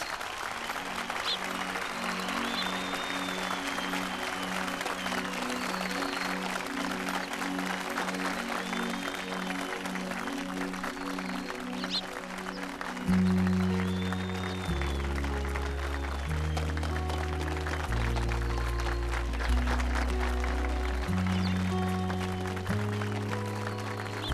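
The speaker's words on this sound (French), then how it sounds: "Faites un tonnerre d'applaudissements." A crowd at a bicycle competition claps steadily and continuously, while loud music with a pulsing beat and melody joins partway through and plays over the applause.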